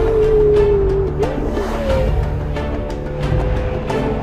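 A Porsche Carrera GT engine revs high, a sharp tone that falls as the revs drop, then settles into a lower rumble with a steady roar, close and loud.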